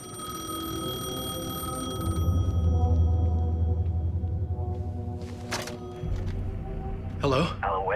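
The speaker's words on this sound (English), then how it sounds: "payphone was ringing" A payphone rings in the video game Alan Wake 2, repeated electronic ringing tones over a low ambient drone with a few sharp noises near the end.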